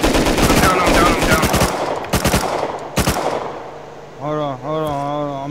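Rapid bursts of automatic gunfire from the modded survival game Rust, loud and close, with dense volleys early and separate shots near the middle, then quieter rustling and a short tonal game sound at the end.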